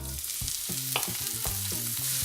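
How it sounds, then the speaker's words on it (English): Chopped yellow onion frying in a pan, a steady bright sizzle with a few soft stirring scrapes, close and continuous with no talk. "So we're going to cook our onion until it becomes transparent and a little bit softer."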